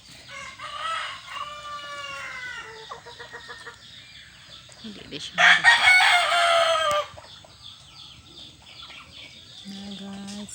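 Fighting cocks at a backyard coop crow and cluck close by, one loud crow standing out midway among layered clucks and calls, with brief talk in the background.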